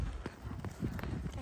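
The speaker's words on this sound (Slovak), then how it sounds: "Pôjdeme teraz pracovný klus." Horse hooves beat out a steady working trot during a riding lesson, a quick regular rhythm of soft thuds heard close under a voice.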